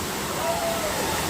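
A waterfall, Bijakasha or Tamdaghumar, roars as a steady, broadband rush of falling water, loud and close, with a faint voice underneath.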